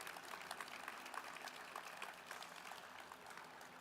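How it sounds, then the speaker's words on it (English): Faint, steady applause from an audience at a governor's transportation and infrastructure announcement. It sounds distant and even, with no voices over it. "Please give him one more round of applause."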